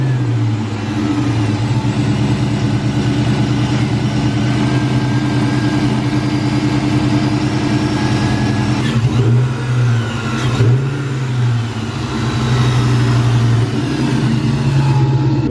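A supercharged Ford 2-valve engine runs loud and close, holding a steady heavy drone with a brief rev swell and dip partway through, no voices over it.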